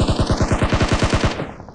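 Automatic rifle fire from the mobile game PUBG Mobile sounds as a rapid burst of about a dozen loud, evenly spaced shots. The shots are close and end abruptly, followed by a short fading tail.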